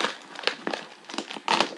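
Crinkly tearing and crackling of tape and packaging as a heavily taped mail package is pulled open, several short bursts close up with no talk.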